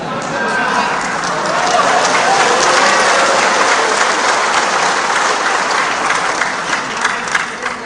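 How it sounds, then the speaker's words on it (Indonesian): A large crowd applauds steadily and loudly at a political speech in Indonesia, dense clapping running the whole time with some cheering mixed in. "Dari tadi kok tepuk tangan terus."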